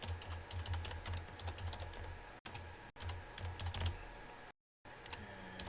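Steady keystrokes on a computer keyboard as C++ code is entered, a dense run of clicks with a few brief gaps, close and clear over a low hum.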